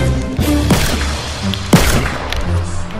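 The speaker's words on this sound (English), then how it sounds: "just make sure to shoot all the blocks" Gunfire in a Fortnite deathrun map as the player shoots blocks: several loud, sharp shots and thumps arrive irregularly over a busy game soundscape, close and punchy.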